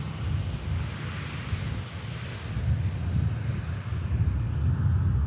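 A Norwegian airliner at Manchester Airport gives a low, rumbling engine drone mixed with gusty wind buffeting the microphone, rising and falling in loudness; no talking.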